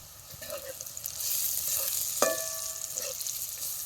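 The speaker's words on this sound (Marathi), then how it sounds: "चटणी बी तेलात चांगली भाजून घ्यायची" Chili powder and turmeric frying in oil for a chana dal curry, a soft continuous sizzle with a few stirring scrapes and a sharp metallic clink of a utensil, close but fairly quiet with no speech.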